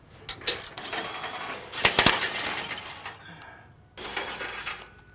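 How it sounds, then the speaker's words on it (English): Bolts on a Toyota Land Cruiser are cracked loose with a wrench and spun out, giving close metallic clicks and ratcheting rasps with a couple of sharp knocks, in short bursts separated by pauses. "So I like to break them loose with a wrench, and then we'll spin them out."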